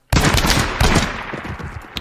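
Loud, close bursts of rapid automatic gunfire from an enemy in the tactical shooter Ground Branch, a dense volley followed by a second burst that tails off.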